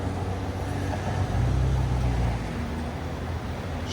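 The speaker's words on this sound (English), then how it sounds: "It's making that weird BMW sound, the gurgling, which is good." A BMW 330i xDrive being refueled at the pump, giving off a steady low gurgling rumble from the filler neck, continuous and close with no talk.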